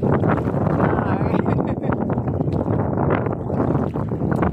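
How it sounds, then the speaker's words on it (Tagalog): Heavy wind gusts batter the microphone in a continuous rumbling roar on Quinalasag Island's coral reef shore, with faint water and outdoor movement underneath and no clear talk. "Grabe ang hangin."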